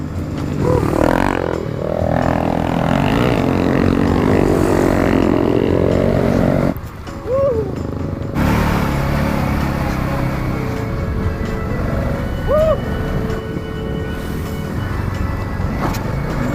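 A Yamaha TW200 dual-sport motorcycle rides through a forest trail, its engine droning loud and close with rough mechanical clatter and scraping, dropping out briefly midway before resuming steadily.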